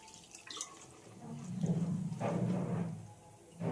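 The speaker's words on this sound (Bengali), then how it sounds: "এবার জল দিয়ে 1/2 ঘন্টা মতো ভিজিয়ে রাখবো" Water is poured over sour jujube fruit in a bowl to soak for pickle, making a brief, moderately close splashing gush after a few light drips.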